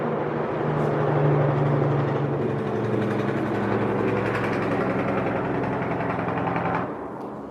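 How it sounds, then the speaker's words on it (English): A big grain truck with large loud mufflers rumbles past, a deep throbbing engine roar that holds steady, then fades toward the end. "That's a great big grain truck. They got big loud mufflers."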